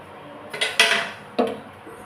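A fluffy omelette slid from a pan onto a plate, with two or three short metallic scrapes and clinks of utensil against cookware, fairly close and clear.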